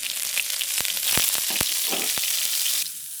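Half a teaspoon of garlic hits heated oil in a wok for a beef and bean sprout stir-fry, giving a steady close hiss with several sharp crackling pops spaced through it, then the sizzle drops quieter near the end.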